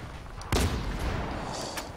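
Gunfire in Battlefield 1 on a desert map, a single loud, sharp shot near the middle followed by a fainter distant report, set over low battlefield rumble.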